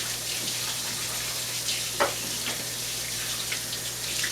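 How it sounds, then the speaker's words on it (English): Tap water runs steadily into a kitchen sink while hands are rinsed, a soft even hiss with faint splashes and a low electrical hum beneath. "Now I'm going to rinse my hands quickly"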